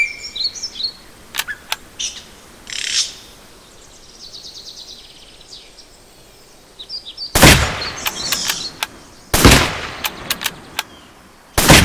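Hunting rifle shots in Cabela's The Hunt video game: several sharp, loud gunshot cracks with short echoing tails come in a cluster late on, after a stretch of chirping birdsong and quieter ambience.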